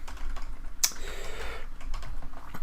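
Fast, close keyboard typing as a command goes into a computer terminal: a quick run of light clicks over a low room hum, with one sharper key strike near the start.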